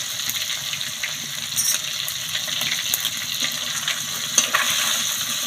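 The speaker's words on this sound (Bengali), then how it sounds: "লঙ্কা গুঁড়ো আর হলুদটা তেলের মধ্যে দিয়েছি নেড়ে নিলাম" Chili powder and turmeric stirred into hot oil for mustard hilsa, a steady close sizzle with occasional soft scrapes of the spatula, no voices.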